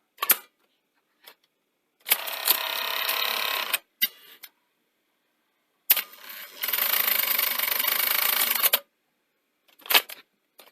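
The mechanism of a CVC Technicolor MicroVideo cassette recorder runs in two sustained whirring bursts of a few seconds each, separated by clicks and clunks from the cassette mechanism, close and fairly loud with no talking.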